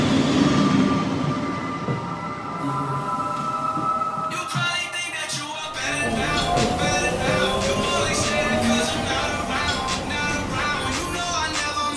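A subway train rumbles loudly and steadily, its rolling roar joined by high metallic wheel and brake squeals that rise and shift, heard up close without any talking.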